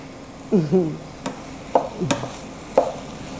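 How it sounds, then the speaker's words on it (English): A utensil scraping and stirring cabbage frying in a pan, several short strokes with brief sharp clicks, with soft sizzling underneath. "I'm just gonna stir it and keep stirring it. It's like you're frying it."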